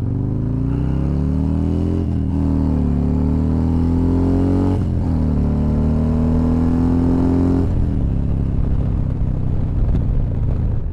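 A Harley or Indian motorcycle engine runs steadily while riding, with a loud continuous rumble whose pitch climbs and dips through gear changes, with no talking.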